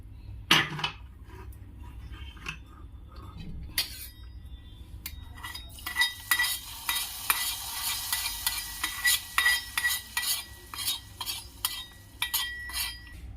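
Hot oil for tempering spices sizzles and crackles loudly after a few clinks of a utensil against a pan, the frying growing denser with rapid crackling bursts.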